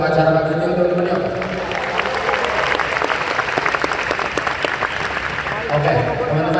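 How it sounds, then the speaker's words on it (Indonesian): An audience at a morning event breaks into sustained applause, dense clapping with crowd noise that swells and continues for several seconds. "Sekali lagi kita tepuk tangan untuk acara pagi ini teman-teman yuk."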